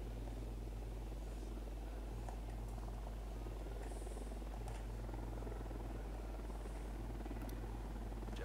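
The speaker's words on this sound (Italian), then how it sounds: "Elicottero unità di pattuglia, occhio." A patrol helicopter in the video game Ghost Recon Wildlands drones steadily with a deep rotor hum and chopping thrum, sustained and fairly loud throughout with no speech over it.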